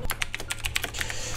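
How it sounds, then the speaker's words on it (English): Quick, close-up typing on a computer keyboard, a fast irregular burst of light key clicks over a low steady hum. "Typing of shame."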